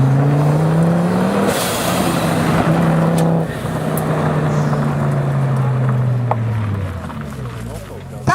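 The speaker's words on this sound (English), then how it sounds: "right now there's going to be some trick driving things" Car doing trick driving at an outdoor VAZ event, a loud engine droning and revving with pitch sweeps as it moves nearby, under people talking.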